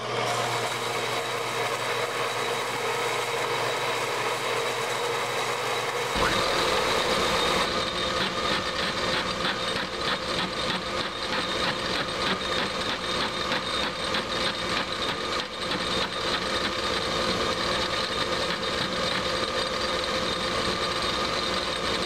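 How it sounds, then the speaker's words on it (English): A bandsaw cuts a 3-inch steel shaft: a steady mechanical drone that shifts into a denser, grinding cutting tone after a few seconds and holds constant and loud throughout. "I'm going to take this into the bandsaw and cut a section off of that"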